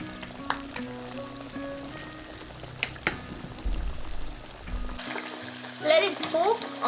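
Pork pieces deep frying in enough oil to cover them over medium heat for Thai fish-sauce fried pork, a steady close sizzle with occasional stirring clinks and a louder bubbling burst near the end.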